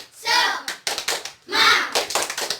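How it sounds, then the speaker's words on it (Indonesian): Fourth-grade schoolchildren in a classroom chant the tepuk semangat routine together, their voices mixed with a quick run of rhythmic hand claps and taps. "Tepuk semangat."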